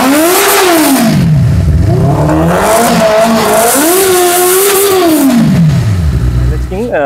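Secondhand superbike engine revving hard in a rising and falling pattern, loud and close, climbing in pitch, easing back down, then surging again, with a strong steady roar throughout.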